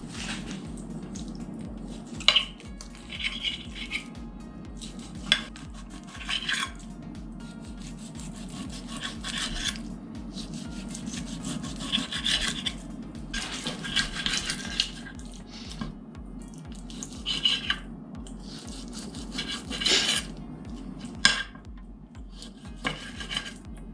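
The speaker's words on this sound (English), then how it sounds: "we're gonna cut the meat and chop the onion" A knife cuts meat and chops onion on a board for a Silesian dumpling sauce. Quiet, repeated scraping strokes and soft taps carry on steadily, with a few sharper chops standing out.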